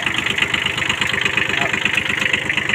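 A used Japanese walk-behind tractor engine drives a rotary tiller, making a loud, close, steady knocking idle with a fast regular chug and mechanical rattle.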